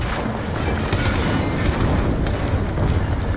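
Heavy automatic gunfire and booming explosions in the shooter Call of Duty: Black Ops 2, a continuous loud rumbling barrage with deep low-end impacts and no speech.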